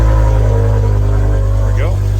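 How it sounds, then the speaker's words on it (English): A BMW M5 with a V10 S85 engine runs at a steady, loud idle close by, low rumble constant throughout with a brief rising rev near the end. "go ahead and start it up, Monhickey."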